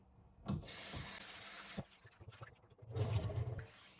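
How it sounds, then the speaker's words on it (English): Hands gently rubbing and swishing rice grains in a bowl of water, soft wet scrubbing in short bursts with a denser sloshing swirl near the end, close and quiet. "Just a gentle rubbing, not too hard, not to break the grains"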